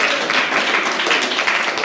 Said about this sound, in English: Another round of applause for Tony, everyone.